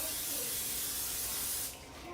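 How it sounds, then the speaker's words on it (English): Cooking spray hisses from a can onto a warm pan for pancakes, a steady close spray lasting over a second before cutting off and leaving faint background noise. "I got my pan is nice and warm. I'm gonna spray it"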